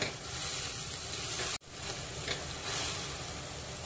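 Chicken masala mixed with curd and fresh cream sautés in hot oil for a Maharashtrian chicken lapeta, giving a steady broadband sizzle with a brief dropout midway, no talk.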